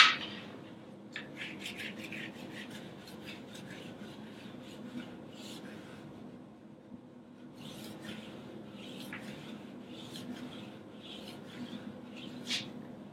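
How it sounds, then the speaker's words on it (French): Synthetic cork rubbed over grip wax on a cross-country ski base, a soft, steady scrubbing rasp with quick back-and-forth strokes, close and fairly quiet. "Et on va venir la poncer avec un liège synthétique."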